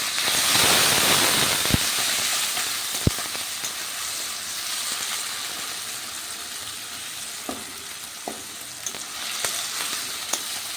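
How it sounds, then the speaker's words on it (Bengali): Steady sizzling of onion, tomato and chili frying in a hot wok, with a few sharp pops and light scraping clicks over the continuous hiss. "আর এখানে আমি কড়াইতে পেঁয়াজ, টমেটো আর লঙ্কাটা দিয়ে ভাজতে শুরু করে দিয়েছি"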